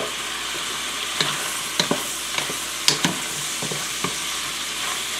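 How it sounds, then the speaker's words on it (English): Ham sautés uncovered in oil in a pan, with a constant close sizzle and several sharp scrape-and-clack stirring strokes spaced irregularly across the clip, and no talking. "then we can start sauteing"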